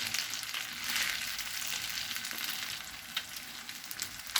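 Chicken pieces frying in a pan for chicken mandi, giving a steady close sizzle with broadband crackle and a few sharper pops, no voices.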